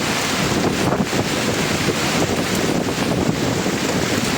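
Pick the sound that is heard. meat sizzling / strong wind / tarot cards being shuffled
strong wind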